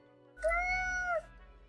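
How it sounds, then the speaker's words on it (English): One clear, drawn-out cat meow, close and fairly quiet, heard alone against near silence. "The cat repeats a sequence of contented meows"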